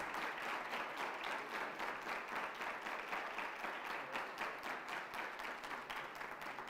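A lecture audience applauds its speaker at a UNESCO communication chair conference, a sustained, even wash of many hands clapping at moderate distance with no voices over it.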